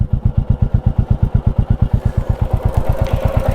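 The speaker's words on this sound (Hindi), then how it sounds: "ये इंजन का साउंड है।" A 2023 Royal Enfield Classic 350 engine idles with a steady, even chugging pulse and a light ticking clatter, close to the microphone, with no talk.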